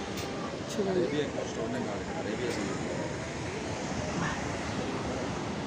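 Surf rolling onto the beach at Kollam, Kerala, a steady broad wash of waves with wind noise across the microphone, continuous and moderately loud throughout.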